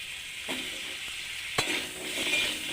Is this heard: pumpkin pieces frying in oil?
yes